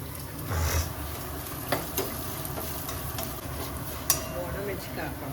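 Two spoons of cumin seeds sizzle in hot oil for jeera rice, a steady close crackling hiss with a few sharp pops and clicks, faint voices low in the background.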